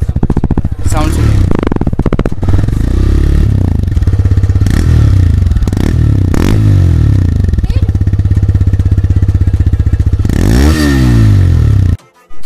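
A TVS Raider 125cc motorcycle engine runs close by with a steady low thrum, a few quick rev blips and clattery mechanical noise, then cuts out abruptly near the end.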